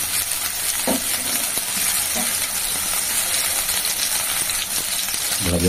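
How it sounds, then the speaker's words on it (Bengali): Small whole potatoes and large soybean chunks frying in oil in a pan, a loud steady sizzle throughout with a few metallic clinks from stirring. "ভাজা হোক।"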